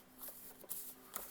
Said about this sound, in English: This is just a really messy shuffle.